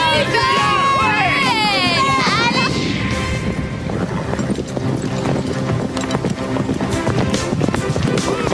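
Horses galloping in an animated French series episode about a horse race, rapid hoof clatter driving steadily throughout, with a whinny and crowd noise early on and voices mixed in.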